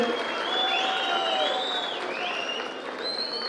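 Audience applause at a public felicitation event in Mysore for the chief minister: dense, sustained clapping from a large crowd, steady and fairly loud throughout.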